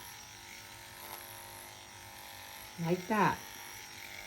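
Electric clippers grooming a Schnauzer's coat hum in a steady faint drone beneath a voice, which briefly rises over the buzz near the end.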